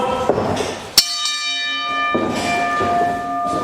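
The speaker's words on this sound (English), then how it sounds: "All right, ring the bell." A wrestling ring bell struck once, a sharp loud clang with a long ringing decay beneath crowd noise at a wrestling show.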